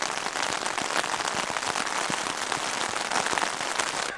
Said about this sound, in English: All right, it's been raining for about an hour.